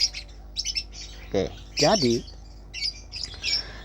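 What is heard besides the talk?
pet bird chirping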